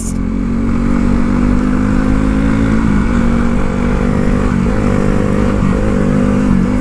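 A motorcycle ridden over a hilly road with its rear wheel slipping now and then, a loud steady engine drone close by with slight shifts in pitch and a rough clattering undertone.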